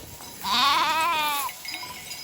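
A young lamb gives one drawn-out, wavering bleat up close, then quieter bleats from the flock follow in the background on a sheep farm.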